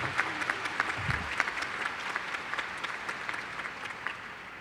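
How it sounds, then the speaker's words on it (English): At the Averill Park High School graduation, the audience gives the high school choir a round of applause, heard as a moderately distant, steady patter of many hands with a few sharper claps standing out. "give one more round of applause as they go back to our APHS choir."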